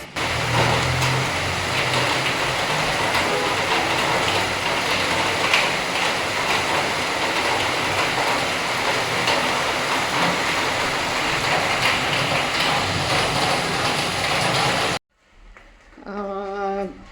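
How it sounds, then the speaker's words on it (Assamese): Rain drums steadily and densely on a tin roof, forming a loud, unbroken wash of noise that lasts for most of the stretch. It cuts off near the end, and then a voice is heard briefly. "মই আপোনালোককো শুনাই দিওঁ টিঙত পৰা বৰষুণৰ শব্দ"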